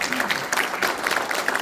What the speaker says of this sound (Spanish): Fuerte el aplauso para Dios, por favor.